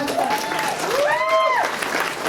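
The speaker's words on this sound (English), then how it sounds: "Yes, you can clap at that" A breakfast crowd at a Plymouth County Democratic League event claps in a steady wash of applause, while a voice rises and falls clearly above it.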